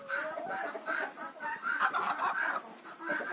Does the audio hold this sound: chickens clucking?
yes